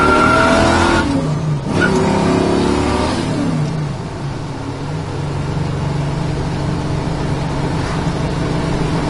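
A 1969 Chevrolet Camaro accelerates hard through the gears, its loud, close engine note rising in pitch and dropping briefly at shifts, with a continuous deep rumble and no talking.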